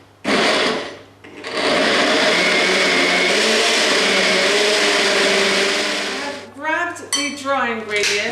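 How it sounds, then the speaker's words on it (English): Blender whirring through brownie batter ingredients for an orange and cinnamon chocolate quinoa brownie, a loud sustained motor roar after a short start, then winding down with a few clinks at the end. "all I'm simply going to do is just blend these together like a smoothie"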